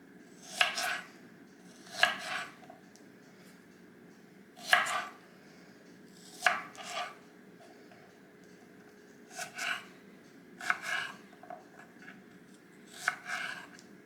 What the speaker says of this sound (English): my garlic cloves were really big, so I cut them into 3 equal parts